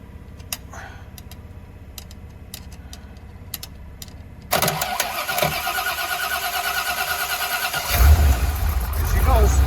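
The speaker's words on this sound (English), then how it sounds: "So I'm gonna turn the ignition on, see if I can fire this thing up." A carbureted Corvette engine cranks and catches after an ignition bypass, first with faint clicks and a voice, then a sudden loud start at mid-clip settling into a rough, rumbling run that swells near the end.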